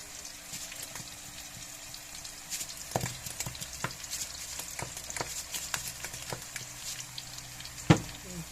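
Snake gourd frying in a pan while being stirred: a soft continuous sizzle with scattered light scrapes and clicks from the spoon, and one louder knock near the end.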